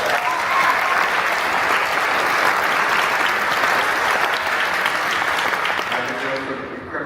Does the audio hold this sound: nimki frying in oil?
no